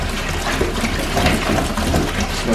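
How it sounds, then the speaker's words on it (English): Hot water poured into a bucket while mixing a biodegradable cleaning solution for off-road motorcycle air filter maintenance, a continuous close splashing gush with no talk. "Add some water. I prefer hot water."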